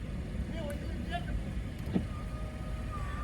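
Steady low rumble of a car engine and road noise heard from inside a moving car, continuous and fairly loud throughout, with faint brief tones above it.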